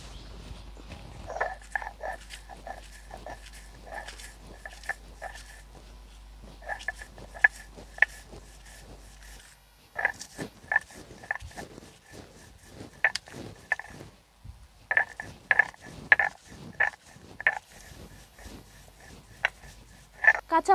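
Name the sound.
grinding fried chili and nigella seeds by hand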